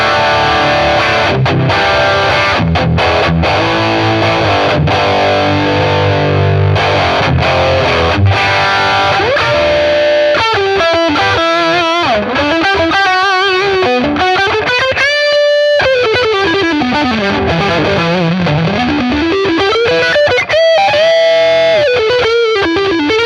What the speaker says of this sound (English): Now I've maxed out the gain on the T-Scream on the Katana and the tones at 1 o'clock